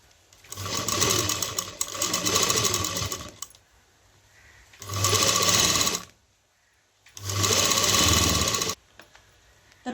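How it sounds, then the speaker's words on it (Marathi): A sewing machine stitches both sides of a cloth vegetable carry bag in three loud, close bursts of rapid mechanical whirring, separated by short pauses, with no speech. "दोन्ही साईडला आपल्याला शिलाई करून घ्यायची आहे।"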